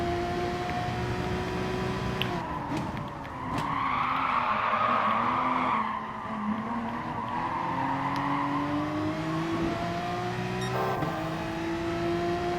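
A Porsche 911 RSR Gr.3 race car in Gran Turismo Sport, racing at the Nürburgring, holds a loud, continuous engine whine that rises and dips with gear changes, while a rushing tire skid swells in the middle.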